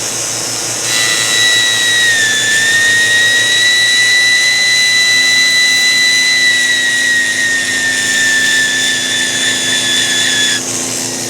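A micro rotary burnisher with a more faceted head whines steadily as it polishes jewelry to a bright finish, a high sustained tone over a motor hum that runs close and loud for about ten seconds.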